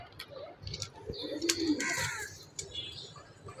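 White pigeons kept in egg-laying crates coo softly and close by, with a few brief calls, clicks and rustles over a quiet background.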